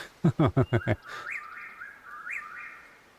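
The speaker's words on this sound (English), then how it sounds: "Is that just ambient bird?" Ambient bird calls from the Way of the Hunter hunting game: a few sharp rising chirps sound near the start, then thin sustained whistled notes with small upward flicks, fairly close and alone against a quiet backdrop.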